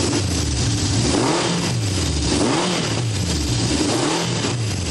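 A 1970 Honda CB750 Four inline-four motorcycle engine runs close by, a loud, steady engine note rising and falling in repeated revs with no talking over it.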